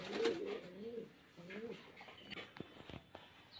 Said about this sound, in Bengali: খুব সুন্দর সুন্দর কোয়ালিটির পায়রা দেখাচ্ছে, দেখেন